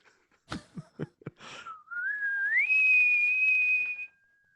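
A clear whistled melody, opening with a few short clicks or taps, then a sustained rising whistle that steps up in pitch and holds steady before fading.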